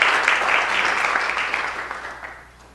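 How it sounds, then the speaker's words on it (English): Audience applause at a city council meeting, dense steady clapping from a room full of people that holds strong for about two seconds and then starts to fade toward the end. "That deserves a round of applause."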